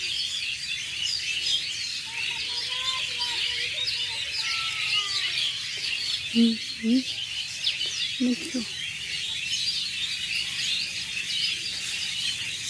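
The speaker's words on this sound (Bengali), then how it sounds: "পাখিগুলো সন্ধ্যার সময় এসে আমাদের গাছে এসে বসে" Birds gather in a tree beside a quiet house at dusk, giving scattered chirps and a few short squawks over a steady hiss of evening insects, with no one talking.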